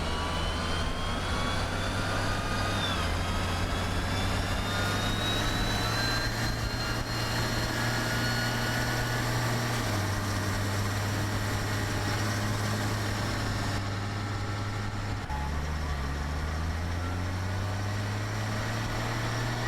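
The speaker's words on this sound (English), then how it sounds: "This tractor sounds insane." A tractor engine in a farming video game drones steadily at low pitch, its tone stepping between a few speed levels over a faint high whine, constant and moderately quiet with no talk.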